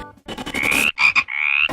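Field frogs croaking close by in rice paddy farmland, a loud series of rapid rattling pulses that stretch into drawn-out nasal calls, with short gaps between bursts.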